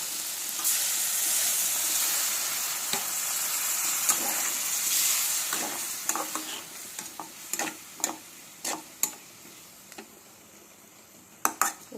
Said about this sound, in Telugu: వాటర్ వేయండి.